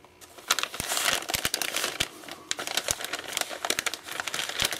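Wax paper crinkles and tears in dense, continuous crackling bursts as a Colt Model 1911 pistol is unwrapped up close, loud and steady with no talk.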